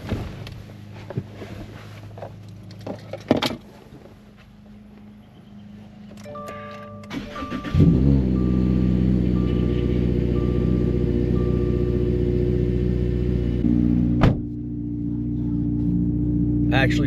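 An impounded Subaru car's engine starts after some clicks and handling noises, then settles into a steady, close, loud idle with a low rumble, with a sharp knock near the end.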